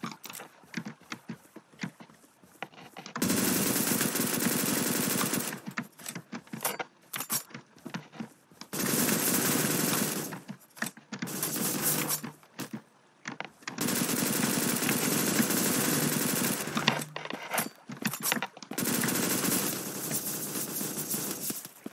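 Gunfire from the top-down shooter Surviv.io, including an MP5: long bursts of rapid automatic shots, several seconds each, broken by short pauses and scattered single clicks, loud and dense with no talking.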